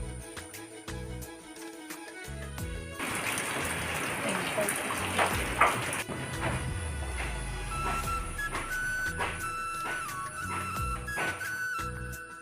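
Steady rain falls during afternoon household preparations for a ceremony, with workers soaked while building a shelter; a continuous hiss of rain runs throughout, with background voices.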